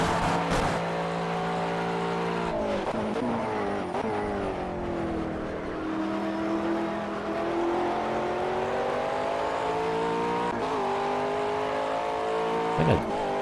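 GT3 race car engines in Project CARS roar around the Nordschleife during a 12-hour race, a sustained loud in-car drone rising and falling through gear changes and revs, with a brief shift blip near the end.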